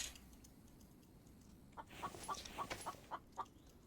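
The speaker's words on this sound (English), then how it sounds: "I hear you, chicken, but I don't need you" A chicken in a video game clucking in a quick run of soft, faint clucks over steady low background noise.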